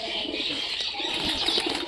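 A flock of pigeons flaps their wings close by in a steady, fluttering rush, with faint cooing mixed in and no talk.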